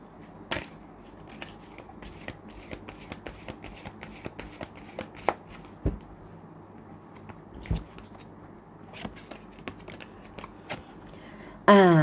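Tarot cards are shuffled close by in a light stream of soft, irregular clicks and flicks, ending with a sudden louder sound.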